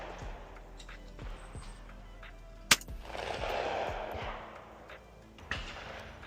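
Shotgun fire at clay targets: a sharp, loud report near the middle, another softer shot near the end, with outdoor rustle and a brief voice in between.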